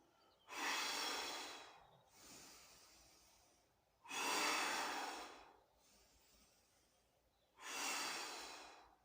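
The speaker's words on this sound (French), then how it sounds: "J'inspire, j'expire." Steady exercise breathing during a floor workout, with three strong breaths and two softer ones alternating at an even pace, close and clear with no talking.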